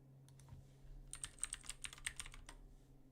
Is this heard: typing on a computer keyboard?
yes